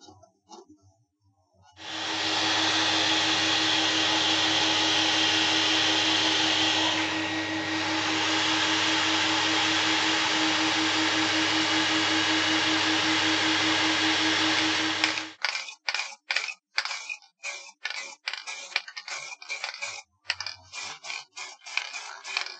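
A workshop dust collector switches on after a short pause and roars at a steady, loud whine with a low hum beneath for about thirteen seconds, then shuts off, leaving scattered knocks and handling noises.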